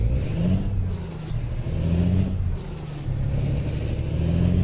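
Steady mid-pitched car engine hum in the American Truck Simulator game, droning on without a break at a moderate, even level, with no talking over it.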